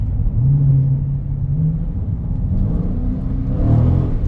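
Deep, loud engine rumble from a 2023 Dodge Charger Scat Pack Widebody cruising at night, a steady low drone heard from inside the cabin with a slight swell near the end.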